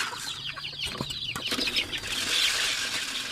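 Chickens clucking close by, a few quick clucks and squawks over a busy farmyard background, with no talking.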